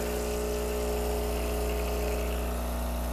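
A Gaggia Classic Pro espresso machine pumps water out through its steam wand during descaling, a steady loud vibrating pump drone with rushing water, continuous and unbroken throughout.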